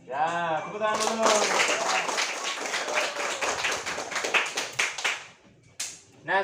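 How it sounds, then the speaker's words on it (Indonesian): Children clap their hands together in a classroom, a dense burst of rapid, overlapping claps lasting several seconds before trailing off, with a voice heard at the start and end. "tepuk tangan dulu"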